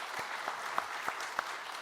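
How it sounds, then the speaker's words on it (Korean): A church congregation claps together to welcome a visiting pastor's wife during a Sunday worship service: a soft, steady wash of applause with a few sharper claps standing out, fairly distant and quiet. "사모님 잠깐 일어나시면 우리가 크게 박수로 환영하겠습니다."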